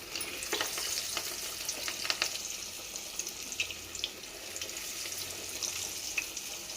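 Chana dal vadas frying in hot oil over a medium to low flame, with a steady close sizzle and crackle running throughout and small pops scattered on top.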